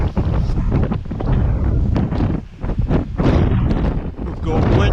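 Strong wind gusting at 40 mph in a storm buffets the microphone in heavy, roaring gusts that swell and briefly ease, loud and rumbling throughout.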